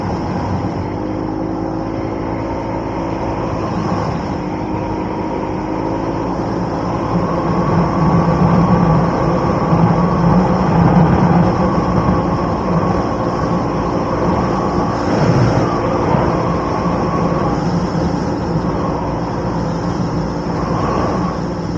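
CFMoto CForce 600 ATV fitted with an RNG clutch kit, ridden at about 30 mph on a trail, its engine droning steadily and loudly with rising and falling revs and wind rush, and no talking.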